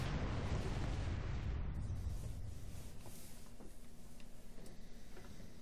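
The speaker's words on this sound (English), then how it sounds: "It's exploding." A broad, roaring explosion from the Ether Vapor Remaster video game, loud at the start and then fading into a lower, rattling rumble that ticks steadily to the end.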